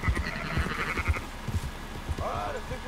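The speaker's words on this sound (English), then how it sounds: "Okay, I'm herding sheep." Sheep in Red Dead Redemption 2 bleat during livestock herding, several short bleats rising over a low background of game sounds and faint activity.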